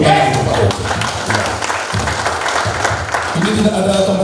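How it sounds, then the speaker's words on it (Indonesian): A seated audience at a sales training session claps in a loose, moderately loud burst, while a voice speaks over and through the applause. "Tepuk tangan untuk Pak Oke"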